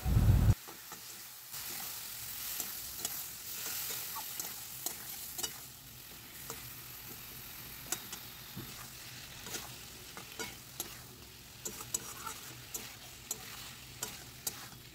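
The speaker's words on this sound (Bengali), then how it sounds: "সামান্য একটু জল দিয়ে মশলাটা এবার ভালো করে কষিয়ে নেওয়া হবে।" Spice paste with coriander and cumin powder and a splash of water is stir-fried in a pan for chingri potol, making a low steady sizzle broken by repeated soft scraping and stirring clicks, close up with no talking.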